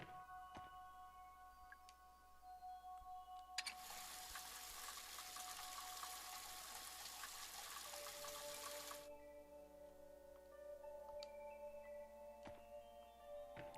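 In the video game Crow Country, a shower runs as a steady broadband hiss for about five seconds, then cuts off abruptly, over a quiet ambient drone with faint ticks.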